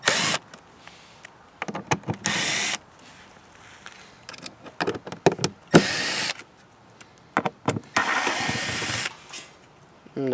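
A power driver runs screws into a subwoofer box in several separate whirring bursts, near and loud, with quiet pauses between each run.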